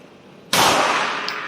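A single loud, sharp gunshot from a CZ 75 P-01 all-steel-frame pistol fired left-handed at a target about six to seven metres away, with a burst of reverberant decay trailing after it.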